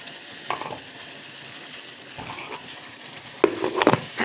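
Liquid boils in a pan on the stove with a steady, close bubbling hiss. A few louder clatters and stirring knocks come near the end.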